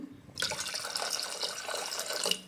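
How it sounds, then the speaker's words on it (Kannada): Water pours in a steady splashing stream into a large pot, starting abruptly and continuing without a break; no voices. "ಸ್ವಲ್ಪ ನೀರು ಹಾಕೋಣ"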